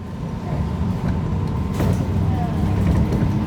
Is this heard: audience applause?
no